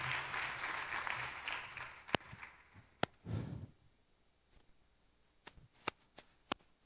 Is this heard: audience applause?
yes